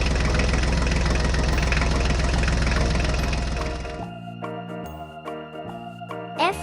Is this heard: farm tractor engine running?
yes